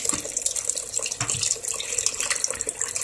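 Tap water runs steadily into a container being filled to rinse salted cabbage for kimchi, a close, continuous hiss and splash with no talking.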